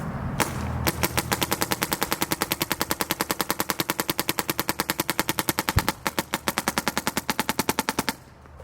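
A MacDev Prime XTS paintball marker fires a long, rapid stream of sharp, evenly spaced shots, loud and close, with a brief pause near the end before the string resumes and stops.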